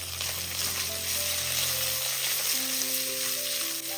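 Green chillies and a small chopped onion sizzle steadily in a pan, with a constant bright frying hiss and a faint tonal hum running underneath, close and without voices.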